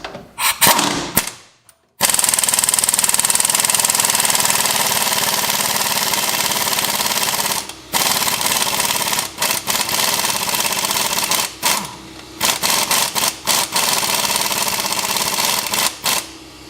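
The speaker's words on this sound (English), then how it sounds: "Broke out the big 1/2-inch drive Mac gun." A heavy half-inch drive Mac impact gun hammers away at a frozen sway bar end link on a truck, delivering long loud rattling bursts separated by short pauses, each burst ending abruptly.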